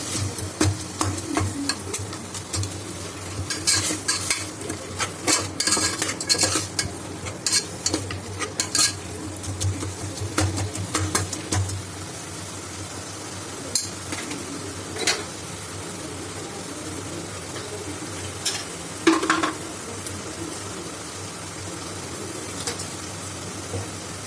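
Ginger garlic paste being sautéed in a pan, a steady sizzle of frying with repeated scraping and stirring strokes of a spoon against the pan, close and continuous with no talking.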